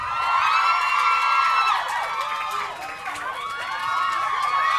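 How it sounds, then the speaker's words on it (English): A TV talk-show studio audience cheers and whoops loudly, a dense, continuous roar of many voices with high shrieks and yells that dips slightly midway before swelling again. "Keep cheering and whooping and so on because it makes them feel welcome"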